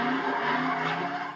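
Street racing cars skid across the upper deck of Portland's Fremont Bridge, a loud, sustained tire screech over steady engine roar lasting the whole moment.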